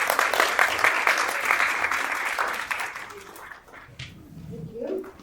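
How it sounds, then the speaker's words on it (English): An audience at a regular board meeting applauds for a retiree, a dense burst of clapping that thins out and fades after about three seconds, followed by a quiet room with a few low murmurs. "we're gonna give her a round of applause anyway"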